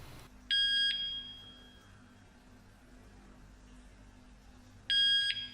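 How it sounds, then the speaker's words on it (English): Two bursts of loud, high electronic beeping from an OSI wireless alarm siren, one at the start and one at the end, with a quiet hum in between. "Hold down the set button on the siren for 3 beeps"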